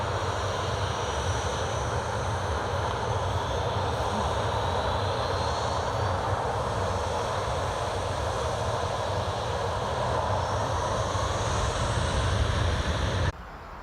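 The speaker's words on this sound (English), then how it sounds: "There we go, it's a Jet2 to Krakow." Steady, broad roar of a Jet2 passenger jet taking off from Newcastle International Airport, runway 25, bound for Krakow, holding at a constant distant level before cutting off abruptly near the end.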